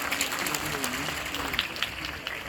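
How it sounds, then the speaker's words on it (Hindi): Dense, sustained audience applause at a Haryana education event, a steady wash of many hands clapping that fills the whole stretch without pause, with crowd noise mixed in. "फिर से जोरदार तालियां उनके लिए।"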